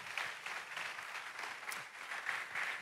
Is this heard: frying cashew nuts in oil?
no